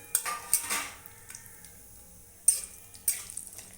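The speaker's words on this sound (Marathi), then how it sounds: "असं खोबरं भाजून घ्यायचं तेलामध्ये" Grated coconut being roasted in oil gets stirred with a utensil, giving a few sharp metallic scrapes and clinks against the pan, separated by quiet gaps, with only a faint fry underneath.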